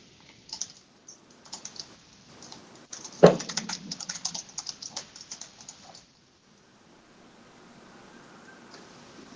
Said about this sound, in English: I'm going to type it in by hand.